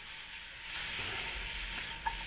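Flour hits a hot pan for a curry and coconut cream sauce, giving a steady close sizzle and hiss with faint stirring scrapes underneath.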